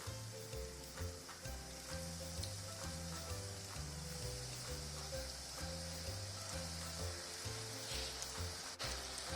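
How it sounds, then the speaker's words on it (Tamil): Onion rings deep frying in hot oil produce a soft, continuous bubbling sizzle, heard faintly alongside a steady rhythmic musical backing. "ஆனியன் ரிங்கை பொரிச்சு எடுத்துக்கலாம். எண்ணெய் காஞ்சிருச்சு, நல்லா போட்டுக்கலாம்."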